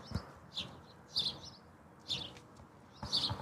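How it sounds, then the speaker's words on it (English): A bird, not a grackle, chirps in short, high bursts near Indianapolis Airport in the evening, four or five calls spaced about a second apart over quiet background noise. "That's not a grackle sound."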